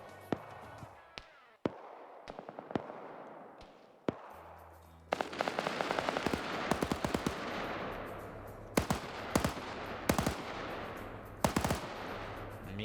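Gunfire from a PvP video game match: sharp single shots at first, then denser rapid bursts of automatic fire with echoing tails, moderately loud and continuing to the end.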